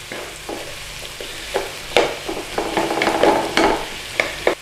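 Garlic ginger paste frying in a pan for a beef madras, a steady sizzle broken by sharp scraping clicks and knocks as a utensil stirs it, close and clear with no talk.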